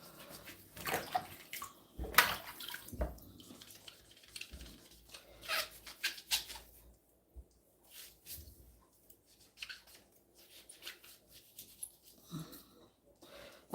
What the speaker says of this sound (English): How about taking time to wash, scrub, scrub, scrub.